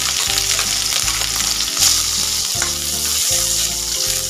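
Sliced onion dropped into hot oil for a Filipino vegetable sauté hisses in a loud, steady sizzle, close and continuous, with no voices.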